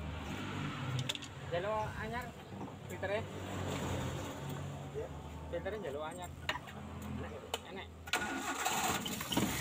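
A motorcycle or small engine is cranked and started during fault diagnosis, with a medium-pitched hum and the revving rising beneath steady nearby talk.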